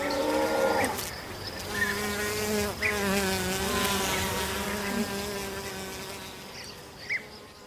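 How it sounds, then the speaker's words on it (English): Flies buzzing steadily in the countryside, a dense close drone of overlapping wingbeat hums that carries on without a break. "Too bad, though, that there are also lots of flies"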